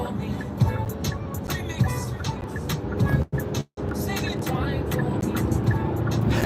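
An Audi drives past on a busy street, a rushing car sound with traffic noise around it, and voices talk over it with a short dropout midway.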